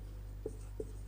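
Two brief, faint taps of writing on a board sound about a third of a second apart over a steady low hum, with no speech.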